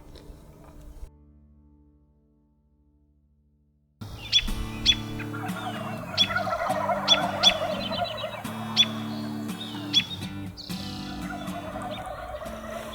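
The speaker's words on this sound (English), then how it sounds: "Bunch of jakes feeding here behind us right now" Several young male wild turkeys (jakes) gobble and call close by while feeding, in a steady, overlapping chorus, following a few seconds of near silence at the start.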